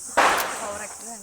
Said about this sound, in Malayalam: പടക്കമൊക്കെ പൊട്ടി കണ്ടോ നിങ്ങൾ